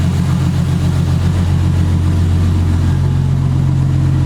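A rebuilt, forged Nissan RB25DET car engine idles steadily and loudly up close, with a constant low rumble and no voices.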